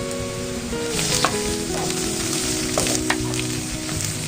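Chopped onion, browned, with green chillies frying in hot oil in a pan, a steady dense sizzle with soft crackles and occasional stirring clicks, close and continuous with no talk.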